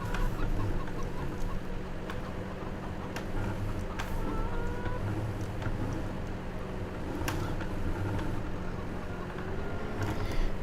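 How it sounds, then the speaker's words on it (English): Hens cluck repeatedly in Farming Simulator 17, a busy, continuous farmyard chatter over a low engine hum from a tractor, with no speech. "Come on, hens. Out from under the wheel."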